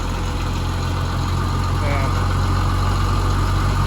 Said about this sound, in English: You can actually hear this bus has the automatic high idle on it.